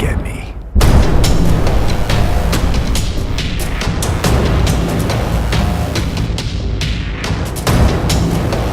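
Rapid gunfire from the Borderlands 2 shooter on Android, loud, close shots in a near-continuous barrage after a brief quiet opening, with sharp cracks punching through a heavy, booming battle din.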